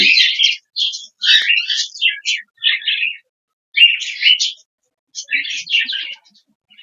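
Budgerigar chicks and adults chirp close by in rapid, scratchy bursts with short silent gaps between them.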